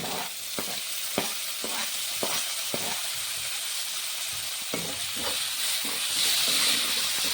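Stuffing for stuffed capsicum frying in a pan as tomato and coriander powder go in, with a loud, constant sizzle broken by several sharp scraping stirs early on and the hiss swelling near the end.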